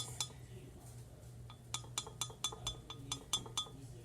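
A metal spoon clinks faintly and repeatedly against a container while borax is added a little at a time for homemade slime, with a quick run of light taps toward the end.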